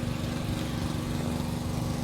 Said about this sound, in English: Mike has been so kind to let me start this engine